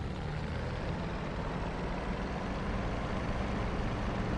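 Bf-109 K4 Kurfürst engine throttling up for takeoff in DCS, a dense, steady roar of piston engine noise that holds loud and even throughout, with no talk.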